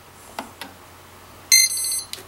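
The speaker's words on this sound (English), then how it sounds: "There's our extra long beep." A few soft clicks lead into an extra-long calibration beep from an electronic speed controller. The steady, bright electronic tone holds for about half a second, close and loud.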